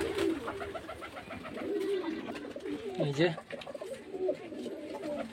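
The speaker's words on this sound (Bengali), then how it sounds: "এই যে পায়রা অনেক পায়রা আছে" Pigeons cooing in a seller's loft, several birds overlapping in soft repeated coos close by, with someone speaking briefly over them.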